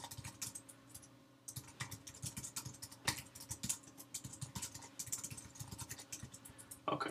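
Steady, rapid typing on a computer keyboard while HTML code is entered, with dense clusters of close, fast keystrokes, brief pauses and a louder key strike partway through, over a faint background hum and no speech.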